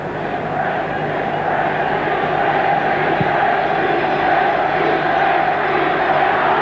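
Roaring crowd of 100,000 at the 1965 European Cup Winners' Cup Final between West Ham United and 1860 Munich, a dense, steady wash of stadium noise heard from a distance.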